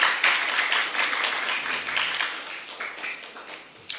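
Audience clapping at a live religious study gathering, a moderate round of applause with uneven individual claps that rises and dips before trailing off.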